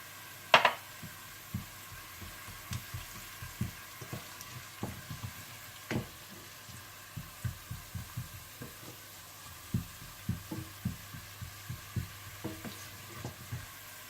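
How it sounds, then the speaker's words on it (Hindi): Onions and whole cumin seeds frying in a pan for aloo palak, a low sizzle under steady soft stirring knocks of a spoon against the pan, quiet and close, with one sharper clink near the start. "तो आप इसमें साबुत जीरा डालकर भून लें।"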